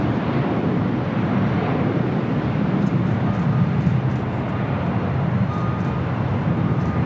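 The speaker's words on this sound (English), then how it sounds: "the Dreamliner now rolling down at 25 right" A Boeing 787 Dreamliner on its takeoff roll down runway 25 Right at LAX, heard as a steady, loud, broadband jet roar and rumble that holds constant throughout, with no voices.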